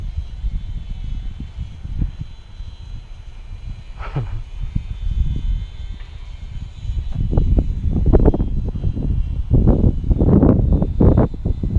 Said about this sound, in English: this is not recommended wind for this little light airframe